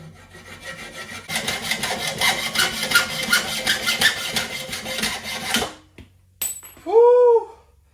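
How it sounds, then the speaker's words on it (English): A small hacksaw cuts through a metal tube beside a weld on a Predator 212 engine, with rapid rhythmic back-and-forth rasping strokes for about five seconds, then stopping; a brief whistle-like sound follows at the end. "I'm gonna opt for the old way, a little hacksaw, because I like a clean cut on these."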